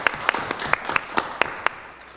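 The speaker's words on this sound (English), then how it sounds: "Let's give Viviana a round of applause." Short applause for a city employee at a city council meeting: a handful of sparse, separate claps spread through the moment, moderately loud against a quiet room, with no one speaking over them.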